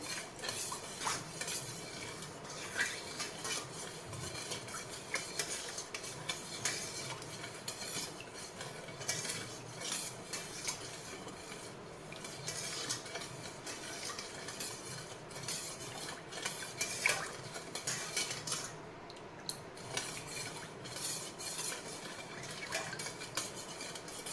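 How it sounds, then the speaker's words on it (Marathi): A spoon stirs sugar into a kharvas mixture in a pan, a quiet, continuous run of scraping and light metallic clinks in a steady rhythm, close by and with no talk. "साखर यामध्ये चांगल्या प्रकारे मिक्स झाली"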